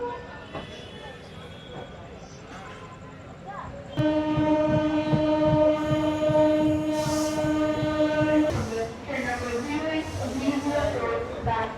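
A train running near the Shalimar level crossing, heard from on board, rumbles steadily, then its horn blares loud and sustained for several seconds before the clatter resumes with faint background voices.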